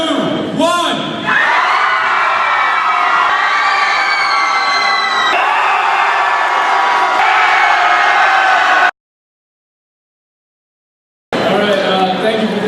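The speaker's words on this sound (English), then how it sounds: "I just wanted to kick things off with a good old-fashioned cheer contest amongst the classes" A crowd of students in a school assembly cheers and shouts loudly for about nine seconds during a class cheer contest, with whoops and children's yells, then a sudden silence before the roar returns.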